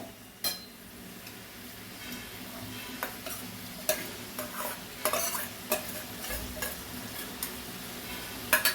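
Rice with pointed gourd (potol) and spices being sautéed in a pan, with a steady low sizzle under repeated scraping and clinking strokes of a spoon against the pan, close and fairly quiet.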